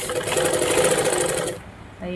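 A sewing machine stitches a cross-piece facing onto a blouse neckline, running in a steady rapid whir for about a second and a half before stopping, with a voice nearby.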